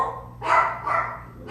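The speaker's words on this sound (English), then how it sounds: "Do y'all hear those dogs?" Dogs bark in three short bursts, fairly faint and somewhat distant, against a quiet background.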